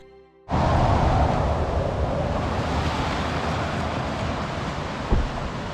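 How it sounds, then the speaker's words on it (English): A creek beside a mountain road in Hatcher Pass, Alaska, rushes continuously after a faint start, a loud, steady broadband wash of flowing water heard close up with no talk. "There's a beautiful creek that's running alongside of the road."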